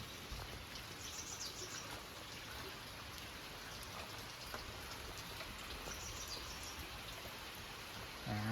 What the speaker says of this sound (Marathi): बघा इकडून किती पडताय तो पाऊस